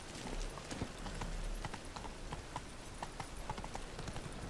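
Horse hooves clip-clopping steadily in The Witcher 3, a continuous run of hoofbeats at a walk or trot over a low background rumble, loud and close with no talk over it.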